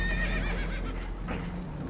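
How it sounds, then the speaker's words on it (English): Spooked horses on a damaged, leaking boat in a video game neigh and whinny loudly in a short burst, with some hoof clatter beneath. "Horses are spooked, and we're taking on water."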